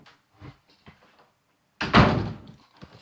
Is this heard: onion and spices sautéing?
no